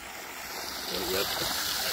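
Irrigation water runs steadily across soil in a field or vineyard being watered, a soft, continuous trickling flow heard fairly quietly and close by.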